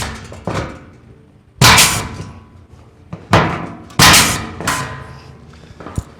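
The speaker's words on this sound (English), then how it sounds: "just punch holes in this thing to simulate where a spot weld would be" Sheet metal is punched for spot-weld holes while restoring the floor pan of a 1968 VW Karmann Ghia. Five loud, sharp metallic thunks land at irregular intervals, each ringing briefly before fading back to a quiet background.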